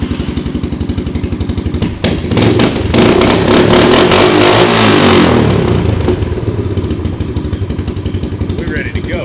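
A 1986 Honda Big Red three-wheeler runs with no exhaust fitted, its engine popping in a loud, rapid idle chatter that swells into several hard revs mid-clip before settling back to a rough idle.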